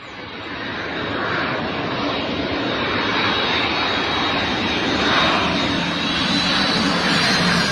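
An airplane engine drones overhead in a steady, loud roar that swells slightly as it passes, with no talk over it.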